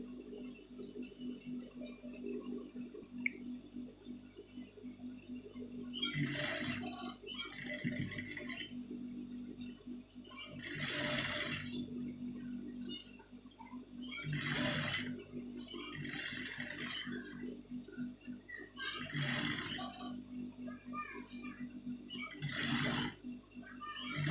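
Sewing machine stitching piping, running in about seven short whirring bursts separated by brief pauses, close and clear over a low steady hum.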